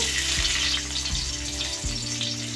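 Cashews frying in oil in a pan, a steady close sizzle with a few low clunks of the pan or spoon, no talking.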